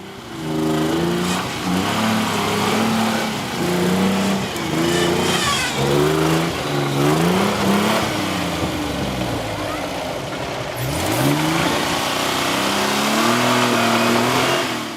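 4x4 off-road vehicle at an off-road event struggling for traction, engine revving loud in repeated surges and drops as wheels spin, near and continuous with faint voices underneath.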